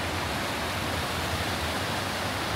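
A stream rushing at a point where three rivers meet on the Badimalika trek in Nepal's far west, a steady dense wash of flowing water close by with no other sounds.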